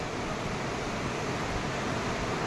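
The Amochu river rushes below the Amochu Zam bridge in Bhutan, making a constant, loud, broad roar of flowing water with no breaks.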